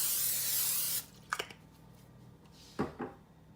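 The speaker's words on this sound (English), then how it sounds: "Spray your pan good so it does not stick." Cooking spray hisses steadily onto a baking pan for about a second and stops, followed by a few light clatters of the pan being handled.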